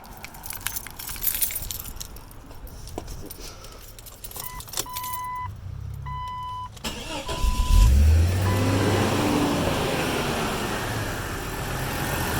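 Keys jangle and clink, then a Jeep Cherokee XJ engine, just after an AC compressor replacement, cranks and catches, settling into a steady idle rumble that continues to the end.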